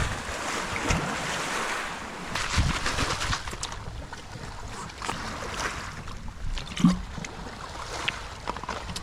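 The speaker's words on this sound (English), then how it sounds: "Ooh, we got some waves." Small ocean waves washing ashore with a steady wash and gusty wind buffeting the microphone, moderately near, a few louder splashes breaking through, no voices.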